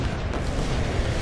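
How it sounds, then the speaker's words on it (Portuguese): Explosions in the PS4 video game Guns Up!, a dense rumbling run of booms and blasts lasting about a second, steady and loud without pause. "Tem que ser duas explosões juntas aí"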